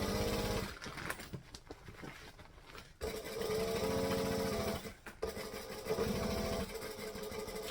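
A sewing machine stitches a fabric panel in steady fast whirring runs, close and continuous, pausing briefly between passes, with no talk.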